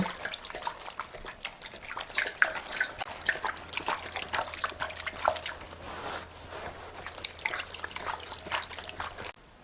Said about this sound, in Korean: 줄기 있는 데만 소금물을 뿌려줘요.